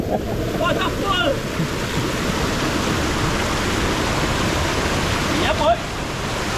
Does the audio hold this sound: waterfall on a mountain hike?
yes